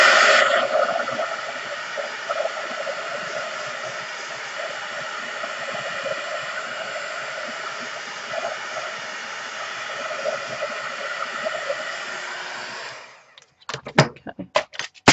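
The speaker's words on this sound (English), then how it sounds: "But first I'll just give that another go with the heat gun." Steady broadband rush of a heat gun blowing hot air over watercolour card for embossing, loud and continuous for about thirteen seconds before cutting off, followed by a few brief clicks and knocks.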